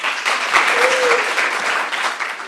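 Steady, dense applause from an audience at a live magazine event as the CEO is called up to close it, loud and continuous for a few seconds with some cheering in the mix.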